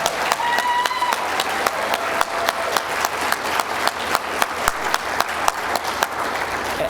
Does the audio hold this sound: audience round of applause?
yes